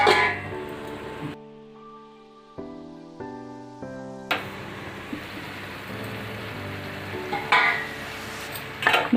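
A pan of long brinjal curry fries and is stirred over the stove, with a steady sizzle carrying through and scraping stir sounds, broken by a brief stretch of tonal noise partway through.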